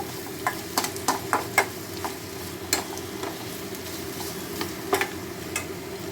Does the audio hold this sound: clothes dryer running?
no